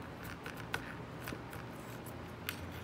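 Scissors snip through a length of yarn used for measuring wiring, with a few short, quiet cuts and faint rustles spaced across a brief, low-level stretch.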